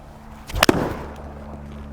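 A single sharp, crisp strike, a golf club smacking a ball, rings out once in a quiet outdoor setting, then fades into low background hum.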